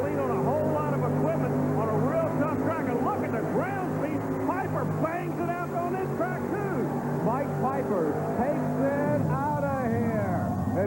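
A pulling tractor roars down a tough dirt track at a 1989 Richmond tractor pull, its engine note rising and falling steadily throughout, loud and close, with a commentator talking over it.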